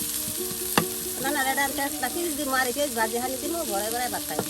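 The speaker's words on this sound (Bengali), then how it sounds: "আর কিছু পরিমাণে পেঁয়াজ কুচি দিয়ে দেওয়া হলো" Chopped onions go into a hot pan for village-style Bangladeshi cooking and sizzle and fry steadily, with a sharp clatter near the start and a voice talking over much of it.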